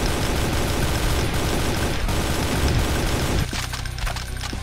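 Chainguns fired by distant chaingunner enemies in Brutal Doom roar in a dense, continuous rattle of rapid shots, loud and unbroken for several seconds before dropping to sparser, fainter reports.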